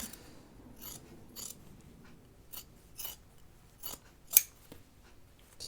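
Scissors snip through the fabric of a sewn Carolyn pajama top, with a series of crisp, close cuts arriving in irregular bursts and one sharper snip near the end, heard alone with no voices.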